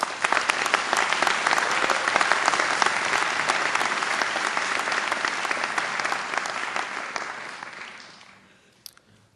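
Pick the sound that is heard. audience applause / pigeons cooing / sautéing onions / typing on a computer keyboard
audience applause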